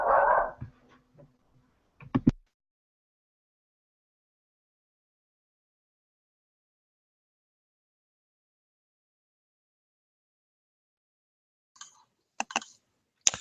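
Dogs wrestle roughly with their owner indoors, giving short barks and yelps in a burst at the start, then a long silence before a few more faint yelps near the end.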